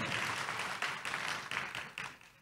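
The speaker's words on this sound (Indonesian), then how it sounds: "Tepuk tangan yang meriah buat Tuhan kita." Church congregation at a Sunday service claps for God, a brisk wash of many hands with distinct rhythmic surges, moderately distant and without speech.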